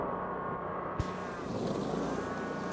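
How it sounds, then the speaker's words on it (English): Engine of an SRA 800 machine, a ride-on unit with an operator's platform, running steadily and close by, with a slight rise in its drone partway through as it is revved. "So we're going to rev it up."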